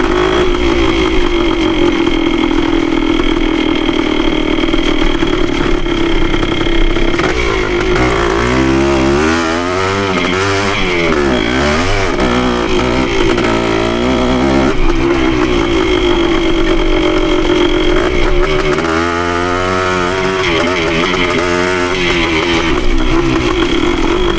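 Yamaha CT3 175 motorcycle engine revving loud and close, with a raspy drone that rises and falls as the throttle opens in first gear on a hill climb, in repeated surges and without talk.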